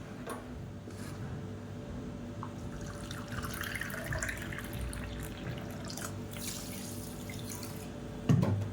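Water trickles and splashes steadily as it is poured into sugar to make syrup, a soft close-up liquid sound with a small clunk at the end.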